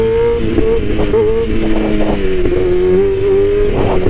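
A motorcycle engine revs hard under heavy throttle to pull a second-gear wheelie on a bike fitted with a stunt sprocket, a loud, close, continuous drone that rises and dips in pitch for about four seconds.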